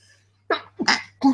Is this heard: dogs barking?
no